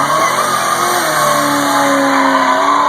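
A 1971 Plymouth Hemi Cuda muscle car engine roars and revs up, a loud close throaty drone with the pitch climbing steadily, heard alone.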